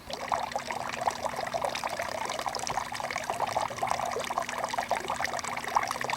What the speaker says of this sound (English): Now we can hear the water babbling there.